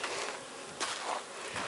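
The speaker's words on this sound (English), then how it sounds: "There's our bees." Bees buzz in the desert at Joshua Tree, California, a continuous hissing drone with a few louder passes as insects fly close to the microphone, no voices heard.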